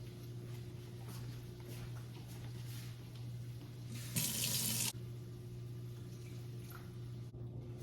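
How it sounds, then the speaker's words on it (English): Under a low kitchen hum, water runs briefly from a tap for under a second while cooking chicken lettuce wraps, a sudden bright splashing rush, then stops. "I'm gonna add a little bit of water."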